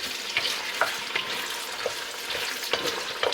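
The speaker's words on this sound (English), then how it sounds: "we're gonna sweat down a little onion first" Onion sweating in a hot pan for shrimp fried cabbage, with a steady sizzle and frying hiss broken by occasional scrapes and clicks of stirring, close and fairly quiet.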